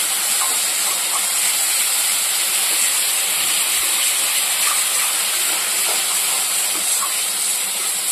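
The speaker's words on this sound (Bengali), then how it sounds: "এদিকে কিন্তু আন্ডার জন্য মশলাটা কষিয়ে নিচ্ছি।" Spice masala for egg curry being fried and stirred in a hot pan, a steady loud sizzling hiss with faint scraping ticks throughout, no voices.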